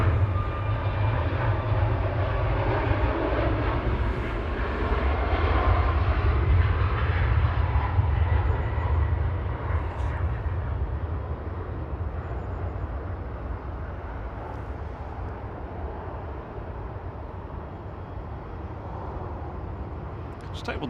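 An airliner departs Manchester Airport for Lanzarote, its steady low jet roar rumbling in the distance for the whole stretch. The engine noise swells slightly midway and then eases off gradually.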